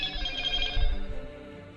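A phone ringing in the video game Corpse Factory, a steady electronic ringtone trill with a low thudding undertone, moderately loud and continuous before tapering off.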